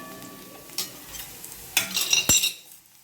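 Garlic cloves stirred in a pan, a few short scraping and clinking strokes building to a louder cluster near the end, close and otherwise quiet.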